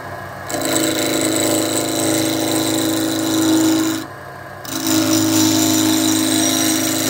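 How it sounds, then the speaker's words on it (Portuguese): A wood lathe spins a pen blank for a fountain pen while a multitool's roughing tip cuts it, a loud, steady whirring hum with a shrill scraping edge, briefly dropping off near the middle before resuming at full strength. "Usando aí a multiferramenta Marco Pin com a ponteira de desbaste."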